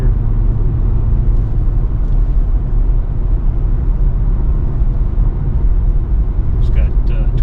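A 2017 Chevrolet SS with a 6-speed manual cruises while warming up, a steady low engine rumble and road drone with no clear revs, constant throughout with a few faint clicks near the end.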